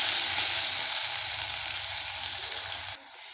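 Chopped onions fry with crushed whole garam masala in a hot pan for chicken keema tadka, giving a steady, close sizzle that cuts off sharply near the end.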